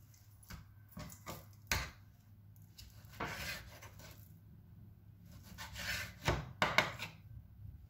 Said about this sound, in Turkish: Bunu jülyen şekilde doğruyoruz.